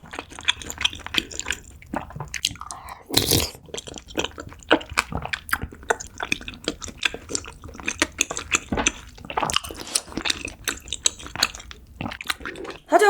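Close, wet chewing of spicy mala tteokbokki with popping fish roe, with sticky mouth sounds, slurps and a spoon clinking against the bowl between bites.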